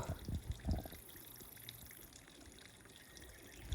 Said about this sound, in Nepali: बर्खाको बेला खोला परेछ अहिले